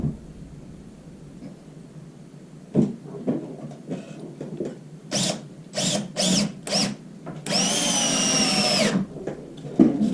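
A power drill drives screws into a wooden raised planter, with short separate bursts of whirring and one longer, steady run near the end, plus clicks and knocks between them.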